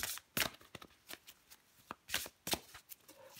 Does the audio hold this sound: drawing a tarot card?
yes